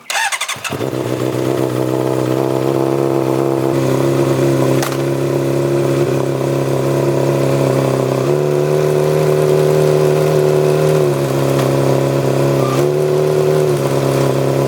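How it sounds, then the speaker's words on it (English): A 2007 Honda CBR600RR motorcycle cold-starts after sitting for two weeks: a short crank catches, then the engine settles into a loud, steady close-up idle with slight shifts in pitch and no voices. "we might as well get a cold start up because I haven't ridden my bike in, I don't know, 2 weeks now."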